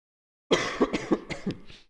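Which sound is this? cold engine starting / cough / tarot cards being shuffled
cough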